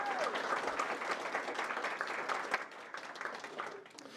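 A board of education meeting audience breaks into a round of applause, a dense wash of clapping from many hands that holds steady and then thins out toward the end.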